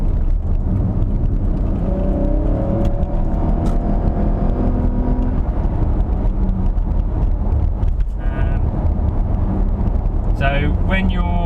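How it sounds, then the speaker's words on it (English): A 2011 Lexus RX450h hybrid's V6 engine hums and rumbles steadily from inside the cabin, its pitch climbing under acceleration, with a person talking over it throughout. "you hear the noise of the engine, which I like"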